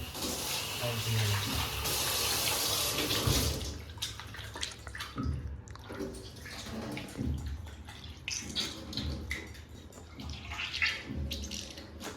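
Tap water runs steadily over raw beef being rinsed for bistek tagalog, a loud broadband rush in the opening seconds that then gives way to softer splashing and handling sounds, with someone speaking over it.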